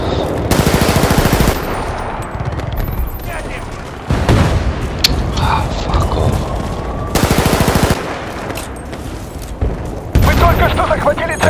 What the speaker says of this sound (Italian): lo sparo col bazooka